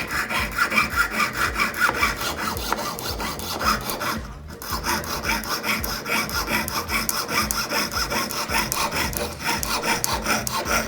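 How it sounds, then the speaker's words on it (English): A hand saw cutting through a wooden nameplate in steady, rhythmic back-and-forth strokes, loud and close, with one brief pause midway and no talk. "just letting the blade do the work."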